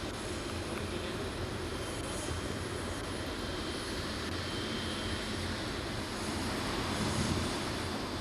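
A Garuda Indonesia airplane arriving at Soekarno-Hatta airport, a steady loud roar of aircraft engines filling the scene with constant broadband rumble and no talk.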